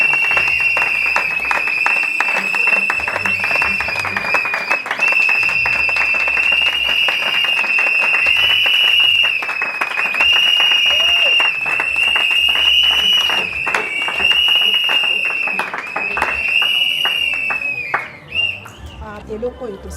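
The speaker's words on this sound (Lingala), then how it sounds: "Sous vos applaudissements" Sustained audience applause at an orphanage inauguration in Congo, dense steady clapping with some shouts and whistle-like tones, loud and continuous for about eighteen seconds before tapering off.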